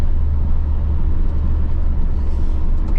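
Old truck named Rusty driving along in fourth gear, a steady loud engine and road rumble with strong low drone throughout, no voices.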